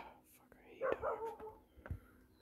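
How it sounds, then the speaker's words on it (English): A dog barking at night around July 4th, a few short yelps with a soft whisper-like voice nearby; the barks are faint and intermittent over a quiet background. "Why is that dog barking? Because the other fucking dog barking in the distance."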